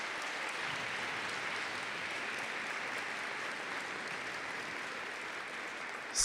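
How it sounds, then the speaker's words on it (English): A school awards assembly audience applauds, a steady, even wash of clapping held at a constant level throughout, somewhat distant and with no talk over it. "A round of applause, if you would."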